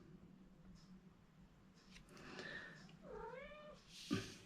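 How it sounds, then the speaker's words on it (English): A house cat meows a few times in a quiet indoor crafting room, the calls rising and falling at moderate volume near the end, with a faint thump. "Yes, cat."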